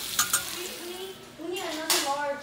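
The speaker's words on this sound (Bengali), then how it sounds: "আর এখানে কচুগুলো ভেজে নিচ্ছি" Taro pieces sizzling as they fry in a home kitchen pan, a soft steady crackle with a couple of sharp utensil clinks against the pan.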